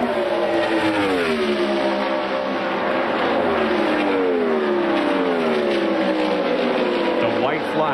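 IndyCar race cars at Indianapolis roar past continuously, several high engine notes sweeping and shifting in pitch over a dense crowd and track wash, loud throughout.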